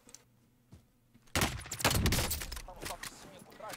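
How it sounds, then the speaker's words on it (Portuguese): Rapid gunfire bursts from machine guns in a custom match of an online shooter game, loud and dense after a quiet start, with a voice talking over the shooting. "Os caras tão de metralhadora na personalizada, velho."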